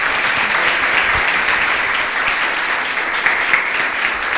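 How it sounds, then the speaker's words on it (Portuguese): Congregation in a church clapping steadily, a dense, even applause throughout with no talk over it. "Receba essa palavra com um louvor de palmas."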